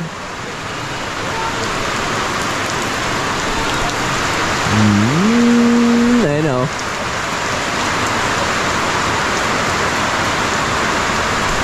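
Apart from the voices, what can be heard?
heavy morning rain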